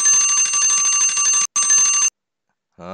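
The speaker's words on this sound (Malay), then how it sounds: "Bunyi loceng dah, rehat dah." A loud electric bell rings continuously for about two seconds with a brief break, then stops abruptly and a short low tone follows.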